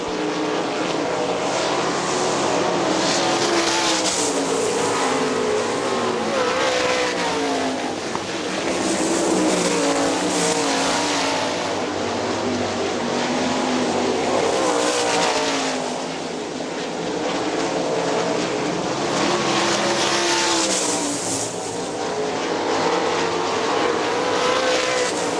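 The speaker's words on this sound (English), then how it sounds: "Danny Smith down to the low side of Dustin Daggett for 4th" Sprint race cars roar around the Hartford Speedway Park track. The loud engine drone rises and falls in waves as the pack passes again and again, with no talk over it.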